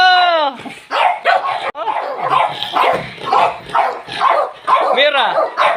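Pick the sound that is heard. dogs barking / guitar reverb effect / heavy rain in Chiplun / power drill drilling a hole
dogs barking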